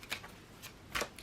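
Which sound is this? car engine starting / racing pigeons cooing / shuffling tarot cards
shuffling tarot cards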